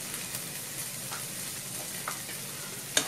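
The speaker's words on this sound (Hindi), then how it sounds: "इसे अच्छे से मिक्स कर लेंगे।" Spice mixture with salt, red chili powder and turmeric stirred in a hot pan, a soft steady sizzle broken by light scraping strokes and a sharp utensil tap near the end, fairly quiet and without talk.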